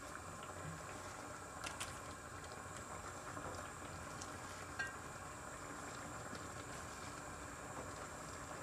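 Potatoes and chopped spinach leaves being stirred in a pan, a faint steady sizzle with soft scraping and a few light clinks, with no talking.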